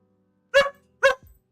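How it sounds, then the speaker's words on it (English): A dog barks twice, sharp and close, about half a second apart, followed by a faint short yip, with quiet between. "Oh, you're gonna bark, huh?"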